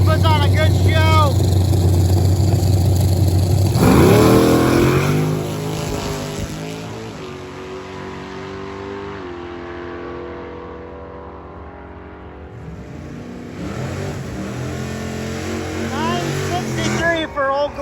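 The Old Glory gasoline drag racing car revs hard, then launches with a loud rising roar that fades into the distance before other engines build again near the end. Voices and crowd noise sit beneath.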